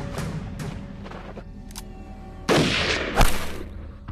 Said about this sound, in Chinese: 再开枪。